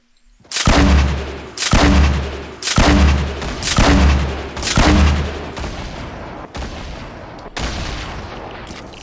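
Heavy gunfire in Fortnite: five loud, evenly spaced booming shots with deep low thump, followed by a few fainter, thinner reports trailing off, alone without talk.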